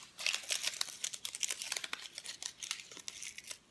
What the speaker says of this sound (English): peel the onion skin right off of this half